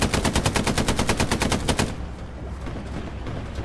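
Loud rapid machine-gun fire in the World War II shooter Hell Let Loose, a fast regular burst of evenly spaced shots lasting nearly two seconds, then cutting off into quieter ambient battlefield noise.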